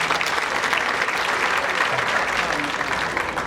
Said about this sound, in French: je vous demanderai de l'applaudir fortement